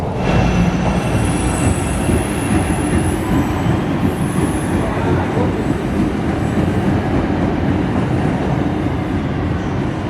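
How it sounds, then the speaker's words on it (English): A Chicago Transit train rides the new northbound viaduct tracks, giving a loud, continuous rumble with high wheel squeals ringing over it and no talking. "So right now we're riding on the new viaduct that they opened on the northbound tracks"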